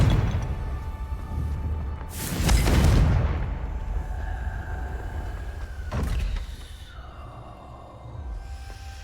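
In Hogwarts Legacy, a Confringo fire spell erupts in a loud, roaring blast, then a second, shorter burst follows a few seconds later, with quiet ambient game tones lingering between them.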